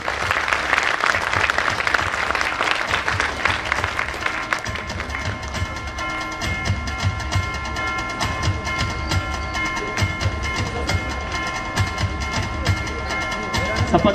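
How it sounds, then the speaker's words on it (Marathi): A crowd at the Konkan Mahotsav 2025 festival gives loud, sustained applause during an honouring on stage, dense clapping that carries on while music begins underneath partway through. "एकदा जोरदार टाळ्या होऊ द्या"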